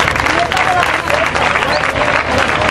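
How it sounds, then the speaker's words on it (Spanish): Loud crowd applause at a village festival coronation ceremony in Turre Viejo, steady clapping from many hands with some voices and whistles mixed in. "Un aplauso, hombre."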